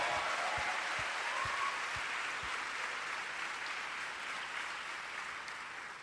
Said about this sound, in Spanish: ¿Será que vos podés aplaudir al Señor Jesús?